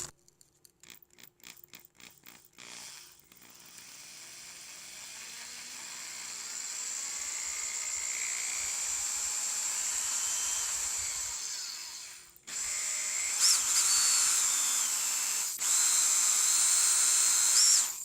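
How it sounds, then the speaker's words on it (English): A power drill with a 1/4-inch bit whirs at high pitch as it bores through an aluminum bracket, grinding steadily before stopping, then starting again in short loud bursts. "these brackets are aluminum, so they should be pretty easy to drill through"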